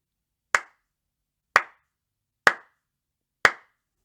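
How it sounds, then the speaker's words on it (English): One person claps slowly and deliberately, four sharp, evenly spaced claps about a second apart, close and clear with silence between them. "Kevin said while continuing his slow clap"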